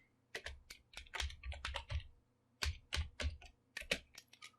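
Keys clatter on a computer keyboard in quick, uneven bursts of typing with brief pauses between runs, close and clear with no voices.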